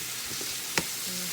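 Steak searing on low heat in a pan, a soft, steady hiss with one sharp crackle partway through, brief and fairly quiet with no voices.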